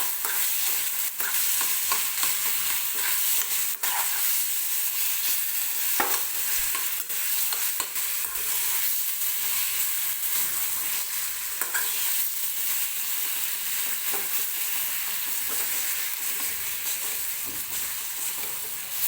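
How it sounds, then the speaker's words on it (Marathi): Mashed eggplant for a Maharashtrian bharit is stirred into hot oil in a pan, giving a steady close sizzle with repeated scraping spoon strokes throughout, no voices. "आता आपल्याला ही जी वांगी मॅश केलेली आहे ती याच्यामध्ये टाकून घ्यायची आहे तेलामध्ये आणि ही छान असं मिक्स करून घ्यायचं आहे"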